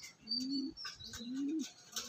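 Pigeons of an Andhra breed coo softly in two drawn-out calls, close by and quiet, with faint chirps and light rustling between them.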